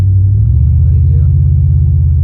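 A 1987 Monte Carlo SS with a swapped 6.0 LS engine and rebuilt 4L80 transmission cruising, giving a loud, steady low rumble from the cabin with no clear revving.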